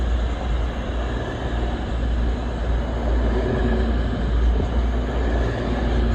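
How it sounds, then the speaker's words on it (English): An EMR Class 222 diesel passenger train of seven coaches rumbles past close by near Finchley Road, London, with a steady, loud mechanical drone and low engine hum lasting throughout, no voices. "Here comes the EMR Class 222 bound for Sheffield."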